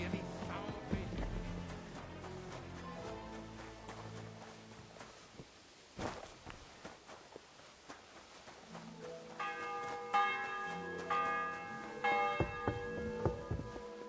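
A church bell tolls repeatedly in a medieval village in Kingdom Come Deliverance 2, ringing out over layered game ambience with faint footsteps and a brief thump midway, the strikes growing denser and brighter toward the end.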